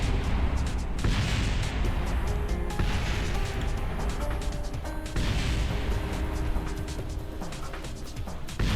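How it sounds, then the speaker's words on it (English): Continuous crashing explosions from a spacecraft breaking apart in Kerbal Space Program, loud and sustained with repeated bangs and debris clatter throughout. "That's a lot of things exploding."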